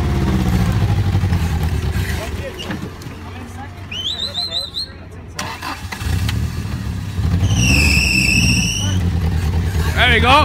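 Off-road buggy engine revving hard while being driven between two trees, loud mid-pitched roar rising and falling under excited shouting from several people.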